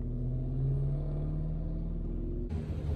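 An Impala car drives past a residential yard, its engine a steady low rumble with a slight rise in pitch as it goes by, heard at moderate volume and alone.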